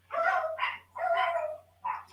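Dogs bark at someone arriving at the door: four quick, close barks and yips in a short burst, heard clearly on their own against a quiet room.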